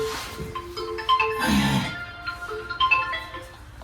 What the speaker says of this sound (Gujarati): એ વળી પાછો ફોન આવ્યો કોઈ